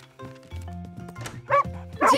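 Cartoon dog from the animated children's series Bing barks in a few short, bright yips over a light musical background, with a voice chattering around it.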